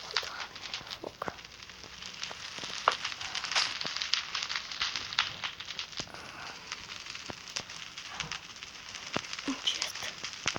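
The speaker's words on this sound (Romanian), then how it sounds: "O, Doamne, foc." Fire crackles steadily after a plane crash in a video game, with dense pops and hissing that run the whole time at moderate loudness.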